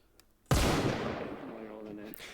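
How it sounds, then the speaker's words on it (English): A single sharp video game gunshot bursts out after a quiet start, followed by a long rumbling echo and a ringing tail that decays over about two seconds. "A gunshot rings out."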